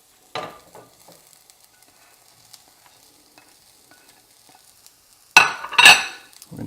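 Chorizo and potato hash sizzles in a frying pan as a utensil stirs it, one brief scrape at the start, a long quiet stretch, then a loud burst of vigorous stirring and frying near the end.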